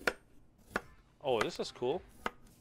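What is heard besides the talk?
chopping a potato on a chopping board in a cooking video game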